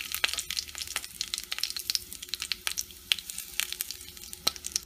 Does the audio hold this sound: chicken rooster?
no